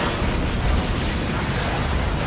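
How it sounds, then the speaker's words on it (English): Rockets fire from a pirate ship in the naval game Skull and Bones, heard as a dense, continuous roar of explosions and rumbling booms with no clear gaps. "Rockets away!"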